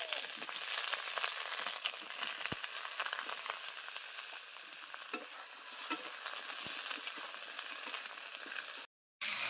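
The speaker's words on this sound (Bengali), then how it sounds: "কড়াইতে আবার একটু অল্প করে তেল দিয়ে এবার বেগুনগুলোকে ভেজে নেব" Brinjal pieces fry in a little oil in a wok, a soft, even sizzle with occasional crackles, quiet and steady until a short cut near the end.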